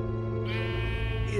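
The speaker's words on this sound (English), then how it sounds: "A sheep?" A sheep in the Minecraft Story Mode video game gives a short synthesized bleat over steady game music, close and clear.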